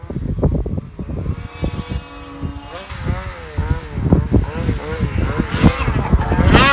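A Summit 850 snowmobile riding through deep powder revs up and down in repeated swells, its engine pitch rising and falling close by and growing louder toward the end.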